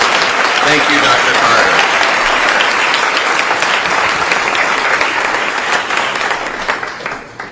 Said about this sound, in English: Would you mind continuing that applause?